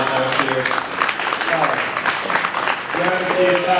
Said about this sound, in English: Let's go ahead and give your goat exhibitors a nice round of applause out here